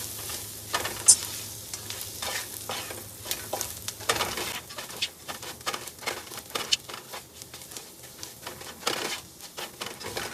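Spices stir-fried in coconut oil in a pan crackle and hiss under frequent quick scraping strokes of a spoon, an irregular, close clatter with no voices.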